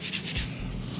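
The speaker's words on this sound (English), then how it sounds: "I'm gonna hit it with some Scotch-Brite." A Scotch-Brite pad rubs over a freshly machined replacement part in a brief, steady, close hiss of abrasive scrubbing, with no speech.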